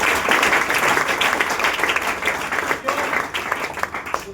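An audience at a seminar claps loudly and densely in a close, continuous burst, with a few voices mixed in under the applause.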